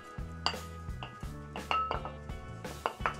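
A spoon clinks and scrapes against a metal pot while stirring an Indian-Chinese Manchow vegetable soup. Several short, close metallic knocks and rattles come in a loose rhythm, with no talking.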